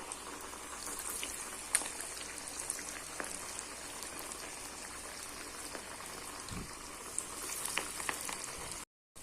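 Vada deep-frying in medium-hot oil gives a steady, even bubbling crackle, like light rain, with a few sharper pops and no voices.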